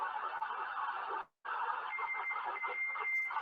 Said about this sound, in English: This is the analog beep, which is called as a beacon.